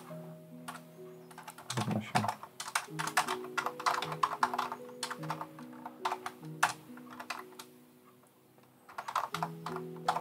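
Fingers tap on a computer keyboard in quick, irregular bursts of close clicks while writing C# code, pausing briefly, under a steady low hum and soft background tones.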